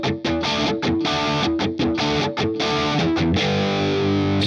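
Distorted electric guitar strumming the chorus of a song, loud chopped chords with brief muted gaps, then a sustained ringing chord at the end.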